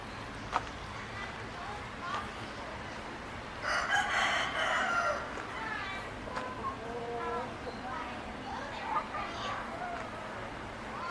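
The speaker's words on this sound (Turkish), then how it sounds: "Yörük tavuğu." A Yörük chicken rooster crows in an outdoor setting, one drawn-out call rising clearly above a steady background murmur with faint voices and other bird sounds around it.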